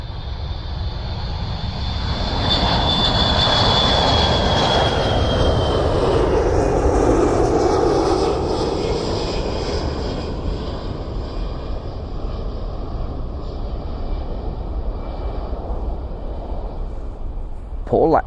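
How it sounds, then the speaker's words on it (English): Aircraft at RAF Mildenhall roars loudly and close by as it passes, a broad jet-engine rumble with a high whine that swells and then slowly fades over many seconds. "Another aircraft."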